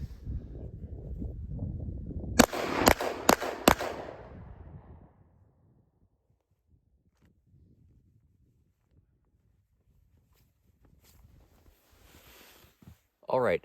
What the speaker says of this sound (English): That was like blindly firing.